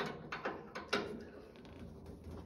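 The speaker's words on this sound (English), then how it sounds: "tightening the oil filter bolts a bit" Bolts on an oil filter being tightened on a Chinese mini excavator, heard as a few short metallic ratchet clicks close by, followed by quieter faint handling noise.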